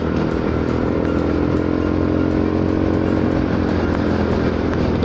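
Honda Forza 300 scooter with an aftermarket exhaust, engine revving loud and close in a continuous raspy drone, no talking over it.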